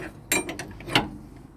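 A wrench works on radius rod bolts under a VW T3 Vanagon, giving a few close metallic clicks and ratcheting knocks spaced irregularly, with quiet gaps between them and no talking.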